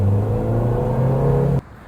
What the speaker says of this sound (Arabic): بالنسبه لمحرك العربيه هناخدها لفه رجلي على الاخر